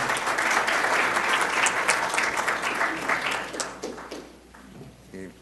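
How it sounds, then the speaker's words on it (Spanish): Audience applause for a professor at a university economics lecture, a dense, steady clapping from a crowd that fades out toward the end, with a brief voice at the close. "Por favor, un fuerte aplauso"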